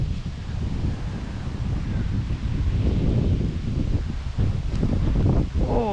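Wind gusting across a lake, with steady rumbling buffeting and rustling that fills the clip throughout at a fairly strong, continuous level.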